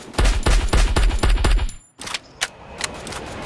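Rapid automatic gunfire from a gun in the Free Fire battle royale game, a loud, steady burst of about a dozen evenly spaced shots that cuts off abruptly, followed by a few scattered fainter pops and clicks.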